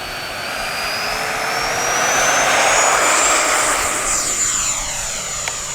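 A Freewing Yak-130 RC jet plane flies past with a steady electric ducted-fan whine, rising and drawing nearer, then easing off as it passes. It is moderately loud and heard alone, with no voices.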